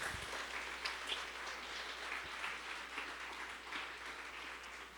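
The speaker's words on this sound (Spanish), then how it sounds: "démosle ese aplauso a Cristo Jesús" Church congregation applauding for Jesus during a Christian sermon gathering, a steady wash of distant, moderately quiet clapping that holds evenly for about five seconds with no talk over it.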